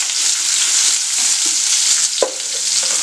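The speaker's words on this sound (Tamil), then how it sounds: "இப்போ இதை நல்லா வந்து வதக்கிடலாம்." Crushed garlic and chopped shallots frying in a pan for kuzhambu, a loud steady close sizzle with a few scraping stir strokes and a spoon knock.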